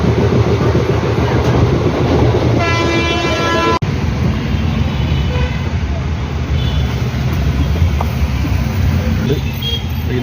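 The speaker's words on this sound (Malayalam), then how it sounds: "അതിപ്പോൾ മൈസൂർ സ്റ്റേഷനാണ്. വടയാർ എക്സ്പ്രസ് ആണ്." Wadiyar Express train at Mysore station, a steady loud rumble of rolling stock and platform noise with a brief sharp tonal squeal partway through, voices mixed into the din.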